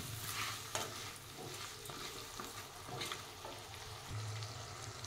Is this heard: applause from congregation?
no